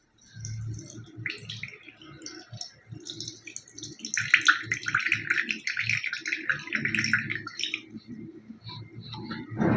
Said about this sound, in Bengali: হালকা করে আর একটু জলটা আমি ঝরিয়ে নিচ্ছি।